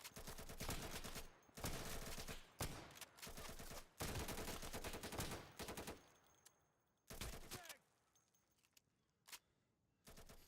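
Beanbag rounds fired at enemies in the SWAT 4 Insurgency mod game, loud rapid bursts of gunfire in several long strings separated by short pauses, then a few isolated single shots toward the end.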